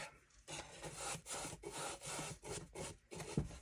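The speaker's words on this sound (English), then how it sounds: "it is time for our wax. And I am just going to put a nice coat on here." Wax being rubbed onto wooden furniture with a cloth, a close, steady series of scrubbing strokes in a regular back-and-forth rhythm, each rub a short breathy swish, with no talking.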